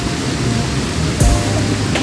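River water flowing at the Coban Jahe camp, a steady broadband rushing wash heard close by, with a brief splash partway through and no talking.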